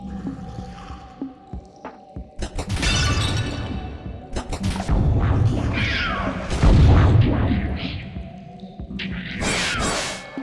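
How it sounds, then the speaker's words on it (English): Frozen enemies shattering in Shrine II, a Doom 2 total-conversion mod. A rapid series of loud, sharp crashing bursts comes with whooshes and booming impacts, bunched close together with brief quiet gaps. "So you can shatter them once they're frozen."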